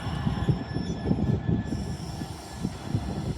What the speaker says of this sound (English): passing through now will be a LNER Azuma from London King's Cross to Inverness